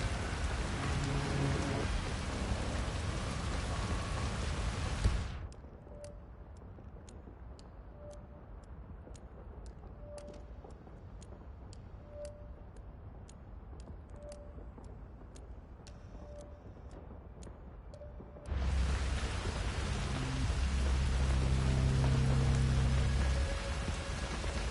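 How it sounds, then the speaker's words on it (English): Steady rain pours in the Hitman video game, a dense broadband hiss that drops to a quieter, sheltered patter with faint regular ticks in the middle before the heavy downpour returns, with no voices. "I'm never going out in the rain again."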